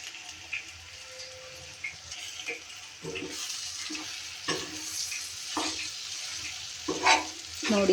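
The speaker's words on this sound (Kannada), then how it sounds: "ನೋಡಿ ಈ ಥರ ಚೆನ್ನಾಗಿ ಕಲಿಸ್ಕೊಂಡ್ರೆ ಕಲರ್ ರೈಸ್ ರೆಡಿ ಆಗುತ್ತೆ" Cooked rice being stirred and mixed into fried rice in a pan, soft intermittent scraping and shuffling strokes over a faint sizzle, close by.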